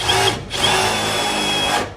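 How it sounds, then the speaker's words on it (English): A power drill drilling overhead whirs in two close bursts, a short spin followed by a longer steady run that winds down. "There's nothing funner than drilling above your head."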